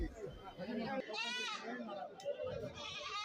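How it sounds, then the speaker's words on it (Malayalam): Several goats bleat loudly and close by at a goat market, overlapping calls amid people chattering in the background. "കറവറ്റി ആടുകളാണ്"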